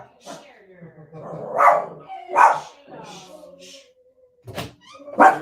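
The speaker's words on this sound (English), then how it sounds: "You loud dog." A dog named Cloud lets out a series of sharp, loud barks close by, with pauses between some of them, while a person talks to her over the barking.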